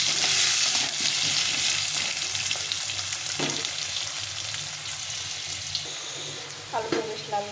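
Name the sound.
potatoes frying in a pan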